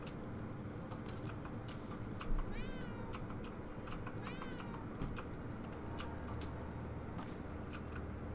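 A cat in the video game Murdered: Soul Suspect gives two short meows in close succession, heard under steady rapid computer keyboard typing and clicking.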